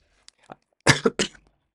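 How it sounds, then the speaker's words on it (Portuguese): A few sharp coughs in quick succession, close and fairly loud, after a couple of faint throat sounds, with quiet around them. "inclusive com a tosse que me deu agora aqui do nada"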